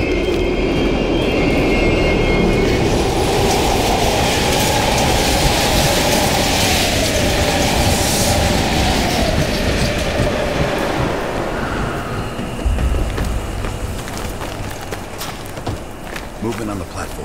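A train rumbles past loudly in the video game Call of Duty: Cold War, set in abandoned stations, with a continuous roar and screeching metal over steady noise while voices speak.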